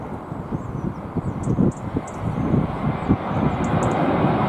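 A British Airways Airbus A320 at Heathrow Airport produces a steady jet engine rumble at moderate distance, mixed with gusty wind noise and faint intermittent higher chirps.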